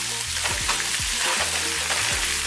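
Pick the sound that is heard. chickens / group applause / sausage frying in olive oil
sausage frying in olive oil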